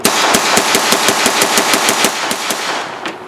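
A modern Auto-Ordnance Thompson M1927A1 fires a rapid, loud, close string of about a dozen evenly spaced shots that rings on without a break, with no speech.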